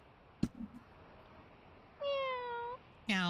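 A cat meows twice in a Flash video game, two clear, drawn-out cries a short pause apart, loud and close, with a couple of soft knocks before them.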